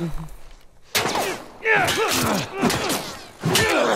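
Bursts of gunfire in The Last of Us video game, several loud volleys with pauses between them, while someone talks excitedly over and between the shots.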